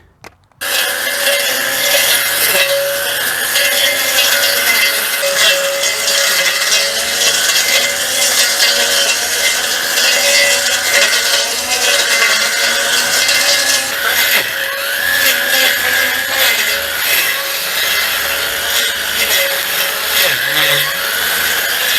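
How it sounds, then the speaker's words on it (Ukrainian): WORCRAFT CGT-S40LiBH cordless string trimmer cutting overgrown grass at medium speed, a loud continuous whirring buzz with scratchy, rasping texture from the line hitting stalks, running steadily from just after the start with no speech. "Кошу на середній швидкості."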